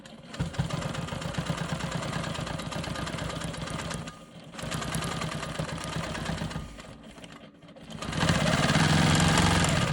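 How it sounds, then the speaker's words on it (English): A Quilt Maker Pro 20 quilting machine stitches in the ditch with a fast, continuous motor hum and needle rattle that briefly slows twice, then returns louder and steadier at the end. "I still need to stitch in the ditch around this last triangle"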